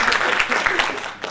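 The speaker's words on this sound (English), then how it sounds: "Give him another round of applause." An audience at a startup event claps in a brief burst of applause, dense and fairly close, with many hands blending into a steady patter.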